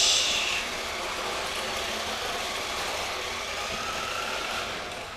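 A Scion FR-S engine catches with a brief burst and settles into a steady, even idle, close and continuous with a muffled broadband rumble.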